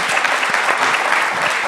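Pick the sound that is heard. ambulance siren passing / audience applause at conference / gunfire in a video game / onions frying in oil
audience applause at conference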